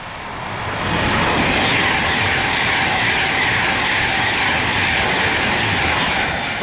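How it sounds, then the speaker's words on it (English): Virgin Trains Pendolino heading for London Euston rushes through Cheddington, its dense rolling roar rising after a second and staying loud and close throughout with no voices. "Next train to go through is Virgin Trains Pendolino to London Euston."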